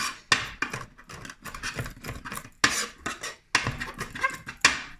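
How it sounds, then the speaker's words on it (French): A knife finely chopping garlic with a little salt on a board makes irregular sharp taps mixed with scraping, close and fairly quiet, with no voices. "Ça va les tenir ensemble, les morceaux d'ail. Et puis, comme ça, vous pouvez les hacher."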